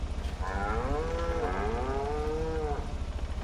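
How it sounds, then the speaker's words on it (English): Several cows on a farm give long, drawn-out moos that rise and fall in pitch. The calls sound fairly close and follow one another without a break over a steady low background. "Let's say hi to our cows"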